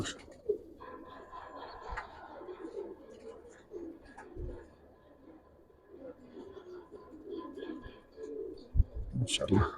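Young black Giribaj pigeons in a loft coo softly in low, repeated murmurs, faint and close, with someone talking over them and a few handling bumps.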